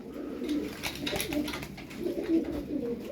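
Pigeons coo in a loft, several low, rolling calls repeating and overlapping close by over a soft rustle, with no talking.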